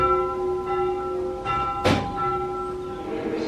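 A church bell in a bell tower at Lake Bled, Slovenia, driven by a pendulum mechanism, gives a single sharp strike near the middle, its ringing overtones sustaining steadily before and after.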